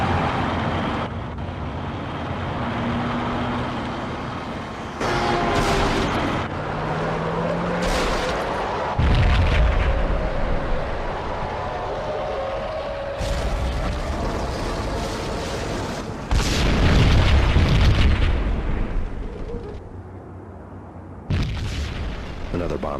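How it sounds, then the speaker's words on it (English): A bomb blows up inside a slum building in Max Payne, with deep booms and rumbling bursts coming in several waves through tense background music and a voice speaking over parts of it. "Another bomb exploded inside the closest slum building."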